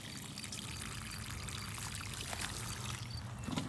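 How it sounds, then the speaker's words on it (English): Water with dissolved Epsom salts is poured from close by onto tomato plants in a garden bed, making a soft continuous trickling splash that runs steadily throughout at low level. "So we are watering Epsom salts into the tomatoes"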